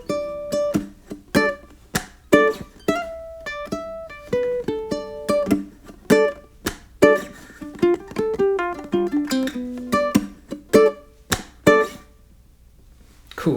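Blues licks on a ukulele mixed with strummed chords: plucked single-note runs broken up by sharp chord strokes, close and clear with no voices, then a short pause near the end.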